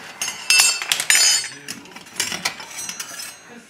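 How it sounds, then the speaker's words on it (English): A metal spoon clinks and taps against a pot while pasta puttanesca is dished up, making a few sharp, close strikes followed by lighter scrapes and clinks. "Get my spoon here to dish this up"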